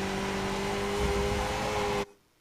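A race car engine in the iRacing sim at Spa, driven in a Skip Barber car, hums steadily under part throttle, then cuts off abruptly near the end, leaving a faint residual tone.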